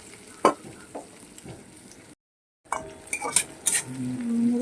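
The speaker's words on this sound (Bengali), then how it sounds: "ওই তেলের উপরে পেঁয়াজ দিয়ে দিলাম" Sliced onion hits hot oil and starts sizzling, with utensil clinks and stirring scrapes; the sizzle builds and holds toward the end.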